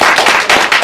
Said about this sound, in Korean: 방금 저희 발제를 끝내신 기상식 선생님한테 한번 박수를 좀